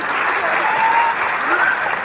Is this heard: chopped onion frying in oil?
no